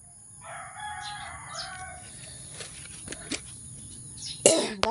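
A rooster crows once, moderately near, followed by a few soft chicken clucks and a short cough-like burst, all fairly quiet against a faint background hiss.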